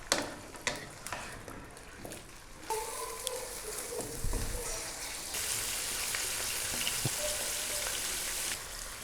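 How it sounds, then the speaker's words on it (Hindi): Chicken frying in oil in a pan for karahi, with scattered ticks and knocks at first, then a dense, steady sizzle rising and holding to the end, close and without talk. "अब हम इसको फ्राई करेंगे। इसको हमने इतना फ्राई करना है कि ये लाइट गोल्डन हो जाए।"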